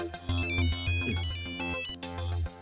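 A phone ringtone plays during an outgoing call, a loud electronic melody with a repeating rhythmic pattern and bass pulses that cuts and restarts partway through, with no talking.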